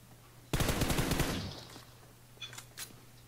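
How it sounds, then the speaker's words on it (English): A rapid burst of automatic gunfire from PUBG Mobile rattles for about a second, then fades, followed by two faint, sharp shots further off, over a low steady hum. "Oh, he's shooting you."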